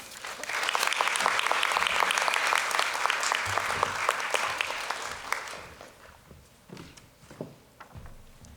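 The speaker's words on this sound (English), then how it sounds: "I think you all deserve one more round of applause." Audience applause at a medical school white coat ceremony, a large crowd clapping in a dense steady wash for several seconds before tapering off into scattered claps and faint room noise.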